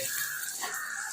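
Stirring a packet of curd into biryani in a cooking pot, a soft scraping and swishing that runs steadily for about a second and ends with a brief sharp clink at the close, with no talking.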